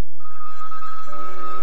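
Telephone in an old advertisement gives a single steady electronic ring tone that starts almost at once and holds nearly unbroken to the end, loud and close, with no talk over it.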